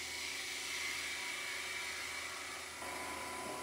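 A turned wooden piece spins on a wood lathe while being sanded, giving a steady, even motor whine with a continuous abrasive hiss, moderately loud and without talk.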